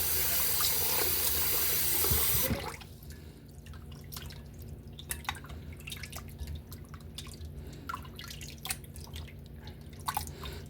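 Water runs steadily from a tap while pork intestine is rinsed inside and out, a loud gush in the first couple of seconds easing into a quieter flow with scattered drips and splashes.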